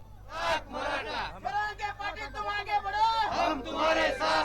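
A crowd of Maratha protesters chants slogans such as "Ek Maratha, Lakh Maratha" in loud, rhythmic bursts, many voices shouting together in repeated phrases, at the Vashi APMC market.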